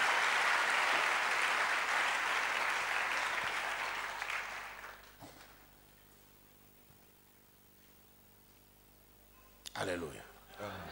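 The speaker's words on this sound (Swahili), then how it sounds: "Est-ce qu'on peut acclamer le Seigneur?" A church congregation claps and cheers in praise during a worship service. The applause is loud and sustained for about four seconds, then fades to a quiet room, and a voice comes in near the end.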